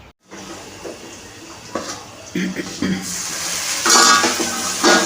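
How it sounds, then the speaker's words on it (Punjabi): Tadka tempering sizzling in a pan while cooking arbi vegetable curry, with bursts of frying hiss and clinks of a utensil stirring, building louder toward the end. "ਸਬਜ਼ੀ ਬਣਾਉਨੇ ਆ ਤੜਕਾ ਲਾਉਨੇ ਆ"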